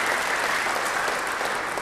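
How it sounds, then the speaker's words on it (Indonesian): A church congregation breaks into steady, dense applause, loud and close throughout the short stretch with no voices over it. "Beri tepuk tangan yang baik bagi dia"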